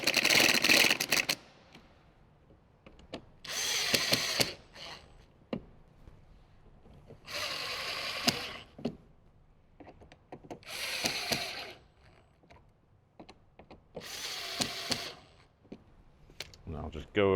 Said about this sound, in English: your T15, go ahead and tighten those back down